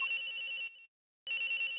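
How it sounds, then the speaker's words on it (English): A cell phone in the Ace Attorney Investigations video game rings with a bright electronic tone, cuts out briefly to silence, then resumes at the same steady pitch. "Ringing's coming from in here"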